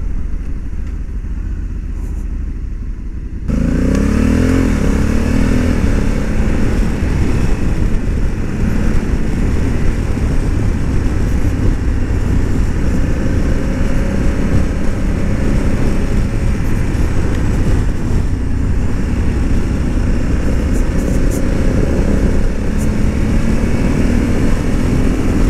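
A Honda Africa Twin 1100 motorcycle engine drones loudly while riding after a quiet opening, a steady close rumble with a rising pitch sweep as gears change, and wind noise along the way.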